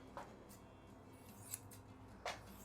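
Scissors cut fiberglass cloth laid over a surfboard during lamination, giving a few faint, quick snips spaced over a couple of seconds against a low background hum.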